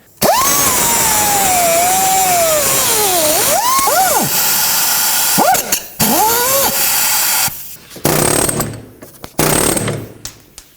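A power cutting tool cuts off a rusted, stuck sway bar link on a 2007-2009 Saturn Aura, whining loudly with the pitch rising and dropping under load, then stopping and restarting in several bursts.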